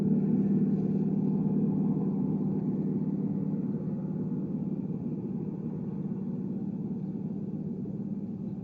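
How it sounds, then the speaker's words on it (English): A tour bus idles near the Katmai, Alaska bear-viewing area, a low, steady diesel rumble that holds constant and fades slightly toward the end, with no voices over it. "if you're wondering what the engine idling happens to be, that's that bus"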